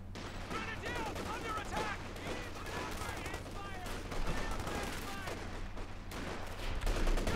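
MG34 machine guns firing in the strategy game Company of Heroes 2, continuous gunfire layered with other battle sounds in a dense wartime mix, steady and moderately loud throughout.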